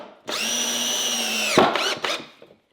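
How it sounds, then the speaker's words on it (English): A power drill drives a screw into a wooden sawhorse, a steady high whine for over a second, then a few short revving bursts as the screw seats, loud and close with no talking. "Sink you another screw."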